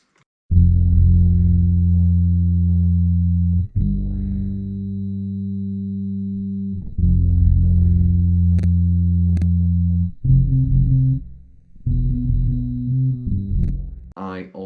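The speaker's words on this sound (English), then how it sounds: "So I layered that with a synth bass," Layered bass and synth bass in an R&B production, playing sustained deep, buzzy notes in long held phrases with brief gaps between them, loud and alone.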